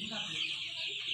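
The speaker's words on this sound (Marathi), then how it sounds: "1000 कोंबड्या आहेत ह्या." A dense flock of about a thousand desi country chickens and small chicks on a family poultry farm, keeping up a steady, busy clucking and chirping chorus close by with no talk.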